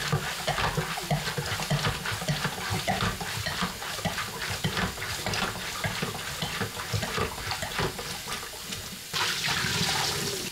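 Rinse water sloshing and splashing inside a film developing tank as it is agitated during color film processing at home, a steady watery churn with a brief burst of pouring near the end.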